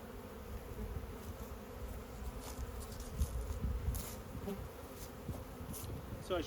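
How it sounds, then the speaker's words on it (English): Honeybees freshly shaken off hive frames during a swarm check fill the air with a steady, dense buzz, many wings droning together at close range with a few louder passes going by. "So I shook the bees up over here, and I'm gonna see if they fly back to here"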